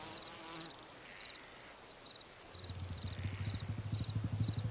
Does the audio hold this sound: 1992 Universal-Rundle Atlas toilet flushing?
no